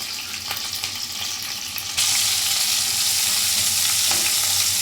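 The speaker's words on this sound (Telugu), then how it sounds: "అందులో హోల్ గరం మసాలా వేసుకొని ఉల్లిపాయలు, పచ్చిమిర్చి వేసుకొని వేపుకోవాలి" Onions and green chilies fry with whole garam masala in a mix of ghee and oil, a constant hissing sizzle that jumps louder partway through as more goes into the hot pan, with occasional stirring.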